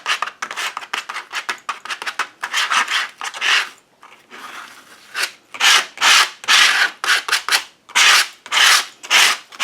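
A brush or tool spreading a thick varnish and Admiral Blue paint mixture over a paper collage, heard as loud, close, irregular scrubbing and rasping strokes in bursts with brief pauses, with no voices.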